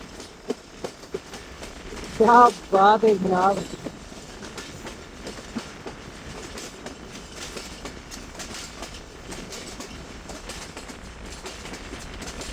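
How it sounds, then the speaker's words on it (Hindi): The Thal Express rolls downhill along a railway track with a quiet, continuous rumble of wheels, while someone speaks briefly near the start. "ये देखें ट्रेन कैसे इस तरह से ढलान की तरफ उतरती चली जा रही है।"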